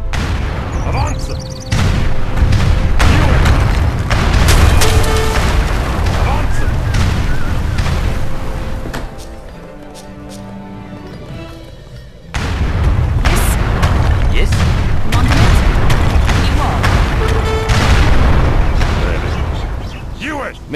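Repeated heavy stationary cannon booms and blasts in a busy Age of Empires 3 battle, loud and close, with a brief quieter lull midway before the firing resumes.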